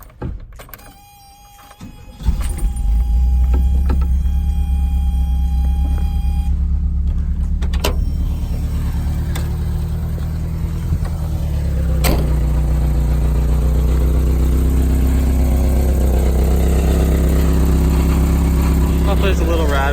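A Volkswagen Vanagon engine cranks and catches, then settles into a steady, slightly rattly idle with a faint metallic clatter running loud and close throughout.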